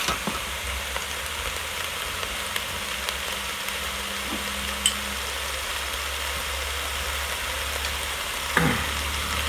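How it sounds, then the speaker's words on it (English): Onion and garlic sautéing in a Cosori 6-quart pressure cooker pot, a steady close sizzle with occasional scrapes and taps of a utensil stirring, no talking. "we're going to just mix it around a little bit. Get all that onion and garlic around that."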